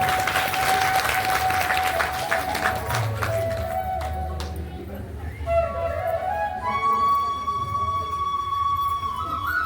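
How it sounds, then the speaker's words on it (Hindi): A gathering at a Bhagavat religious discourse claps for the eldest grandmother, brisk applause for a few seconds that thins out as a sustained musical tone and other sounds take over. "सबसे जो है बुजुर्ग है हमारी दादी जी के लिए जोरदार तालियां।"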